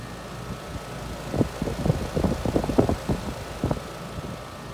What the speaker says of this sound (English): But it is turning in the correct direction at full RPM.